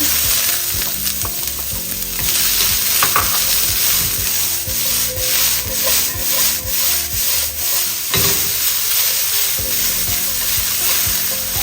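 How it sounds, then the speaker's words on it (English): Onion drops into oil in a smoking-hot wok over high heat for Cantonese braised pork ribs, producing a loud, steady sizzle with rhythmic scraping of the spatula over soft background music. "With the wok smoking on high heat, add 2 tablespoons of oil into the wok. In goes the onion."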